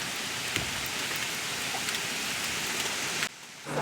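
Steady rain falls on a rural farm during a São João celebration, a dense close patter with scattered drops, ending abruptly near the close, with no talk.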